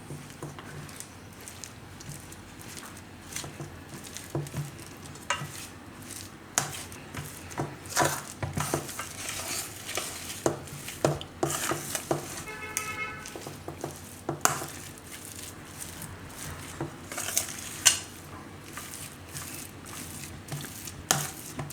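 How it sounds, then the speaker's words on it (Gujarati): Mashed raw banana mixture for kofta being stirred and mixed in a bowl, with soft, irregular scraping, patting and light clinks, quiet and close, with no talk. "આ બધું આપણે મિક્સ કરી લઉં"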